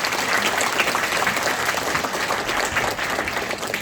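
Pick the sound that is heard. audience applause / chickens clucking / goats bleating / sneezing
audience applause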